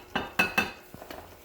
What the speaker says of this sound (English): now we'll try and dump the rest of this in to the bowl, not the motor